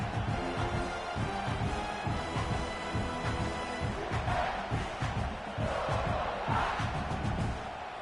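A football stadium crowd at a game against Kentucky roars in a dense, continuous wash of cheering and shouting, loud and sustained throughout, with no clear commentary on top.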